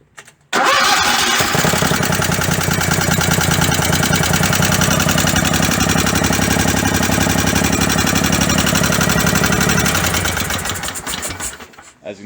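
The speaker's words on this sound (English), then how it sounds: "This engine still runs perfectly fine." The small engine of a Craftsman racer runs in a loud, rough, steady idle close up for about ten seconds, then winds down and cuts off, with no talking over it.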